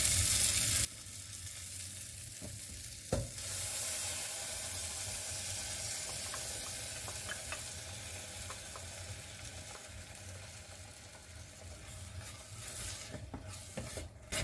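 Ground spinach with ginger, garlic and green chili paste frying among tomatoes and onions in a pan for a spinach biryani: a steady close sizzle with occasional stirring scrapes, no talking.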